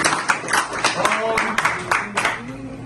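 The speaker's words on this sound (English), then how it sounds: "give them a round of applause" An audience at a preaching service gives a brief round of scattered applause, with claps popping out among voices talking over them.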